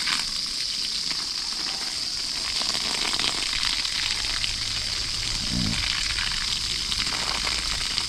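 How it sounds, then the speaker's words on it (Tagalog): Water pours onto dry garden soil while plants are watered, a steady soft hiss and trickle that continues throughout at close range. "Kailangan bumaon-baon talaga yung tubig."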